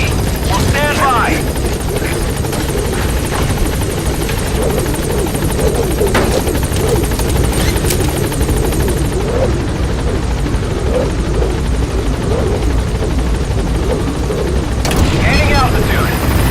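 A helicopter in the Metal Gear Solid V video game arrives at a landing zone, its rotor thudding steadily and loudly throughout, while voices talk over the noise.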